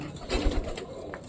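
Pet pigeon cooing softly nearby, a brief low throaty coo in a quiet room.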